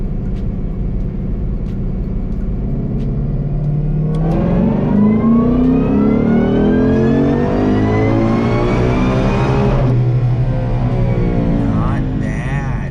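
A supercharged 2020 Ford GT500 running on E85 roars through a dyno pull in fourth gear, its pitch climbing steadily for several seconds before cutting off abruptly, loud and close throughout.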